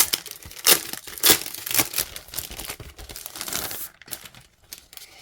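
Sheets of Stampin' Up patterned paper are handled, giving sharp crinkling and rustling bursts close to the mic, several crisp crackles early on, then softer shuffling.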